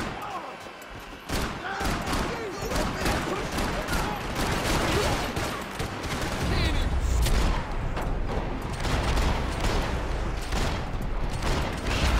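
Gunfire in a Max Payne 3 firefight, with dense rapid shots, thuds and impacts rattling loudly and continuously throughout while voices shout amid the battle.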